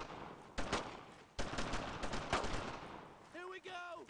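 Gunfire in the World War II shooter Brothers In Arms: Road To Hill 30, with several sharp rifle and machine-gun bursts at moderate volume, followed by shouting voices near the end.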